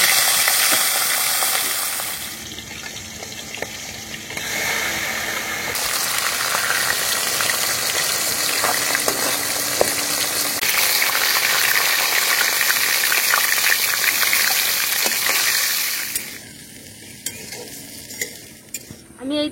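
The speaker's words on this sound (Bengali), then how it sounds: "তেল গরম হয়ে গেছে, এবার আমি মাথা দিয়ে দিচ্ছি।" A katla fish head, rubbed with salt and turmeric, sizzles and spits in hot mustard oil in a wok, a loud, steady frying hiss broken by metal stirring scrapes and clanks.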